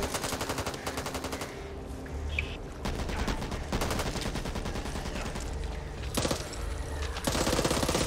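Rapid automatic gunfire in Back 4 Blood, long dense bursts of shots rattling continuously with brief pauses, loud and close.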